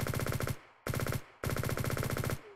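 Rapid submachine gun fire from the open-source online shooter Liblast, built in Godot 4: three loud, fast automatic bursts with short gaps between them, alone with no talking.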